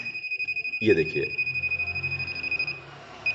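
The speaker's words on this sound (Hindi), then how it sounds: "अभी देखिए मैं जैसे ही यहाँ पे स्विच को चालू करूँगा यहाँ पे बिप बिप आवाज़ आ जाएगा" A touch-sensor alarm device for home or shop security emits a rapid, steady series of electronic beeps throughout, loud and close, while someone briefly speaks over it and a switch is handled.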